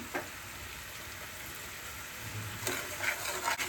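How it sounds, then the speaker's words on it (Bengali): Cumin powder, salt and other spices sauté in ghee for shrimp pulao. A soft, steady sizzle hisses throughout, and a few stirring scrapes come toward the end. "এখন আমি ভালো করে মশলাটা কষিয়ে নেব"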